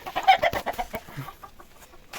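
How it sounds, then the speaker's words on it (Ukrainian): A hen clucks in a quick run of soft, low calls close by, fading toward the end. "О, там вже хто-то ко-ко-ко насідало"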